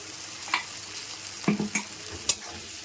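Garlic paste, chopped onion and tomato sizzling in a hot pan, a continuous frying hiss with several sharp scraping knocks from a spatula stirring, close by.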